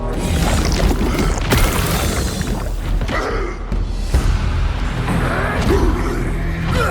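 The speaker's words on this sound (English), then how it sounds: "We have since learned how to perform the Riven Twins Plague Explosion." Casting the Riven Twins Plague Explosion spell in the video game No Rest for the Wicked sets off loud, repeated booms and crashing bursts. Creaking, rumbling effects follow close together and run continuously throughout.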